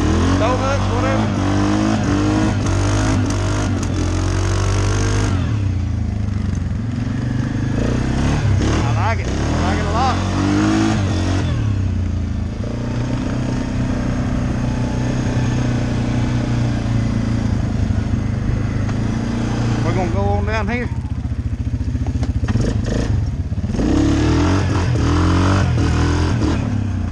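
A vehicle engine revs hard at a mud riding park while its tires spin through donuts, loud and rough with surging pulses, and someone talks over the noise.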